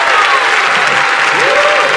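A church congregation applauds, a dense, loud, continuous wash of clapping with voices mixed in throughout.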